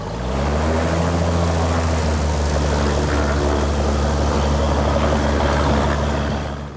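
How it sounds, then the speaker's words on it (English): A small propeller plane flown by a supply pilot at an island airfield on Germany's North Sea coast: a loud, close, steady droning engine with strong humming harmonics, holding level before easing off slightly at the end. "With his propeller plane, a pilot supplies the island's inhabitants with everything they need."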